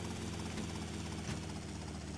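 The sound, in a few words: helicopter in the video game GTA Vice City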